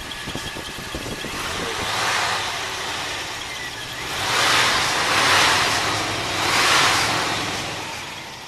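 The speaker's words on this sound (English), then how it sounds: "We'll rev this thing up just a little bit so I can get my hand in here." A 1979 Oldsmobile Cutlass Calais with its 260 V8 idles roughly, then is revved in three swelling blips that rise and fall, fairly close, with no talking.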